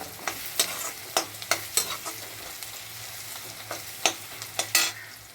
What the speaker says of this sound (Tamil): வெங்காயம் வதங்கிட்டுருக்கு, இன்னும் கொஞ்சம் வதங்கட்டும்